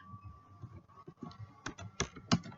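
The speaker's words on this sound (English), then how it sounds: "So top female triathletes. Let me type that." Keystrokes on a computer keyboard while entering a report title, a few scattered soft taps followed by several sharper clicks near the end, close and alone in a quiet room.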